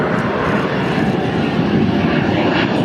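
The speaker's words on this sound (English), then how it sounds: "With its trademark roar, the F-18 Hornet makes its final flight over RAAF Base Williamtown." An RAAF F/A-18 Hornet fighter jet on its final flight over RAAF Base Williamtown gives a loud, steady, broadband roar that fills the whole stretch without letting up, with no one speaking.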